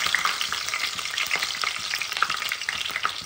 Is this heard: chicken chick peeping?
no